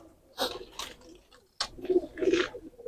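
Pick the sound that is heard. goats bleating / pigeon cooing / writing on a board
pigeon cooing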